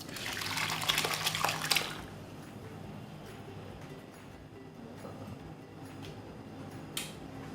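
Whey from curdled milk splashes and pours through a strainer for about two seconds, then settles into a quiet trickling hiss with a faint clink near the end.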